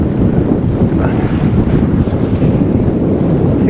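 Strong wind buffets the microphone without a break on a seashore on Sully Island, South Wales, a loud, steady roar with faint surf underneath.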